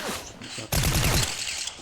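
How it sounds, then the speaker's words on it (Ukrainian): Gunfire in the video game Fortnite: a rapid burst of shots crackles in the middle of the clip, set against steady game ambience. "Тут ще хтось стріляє."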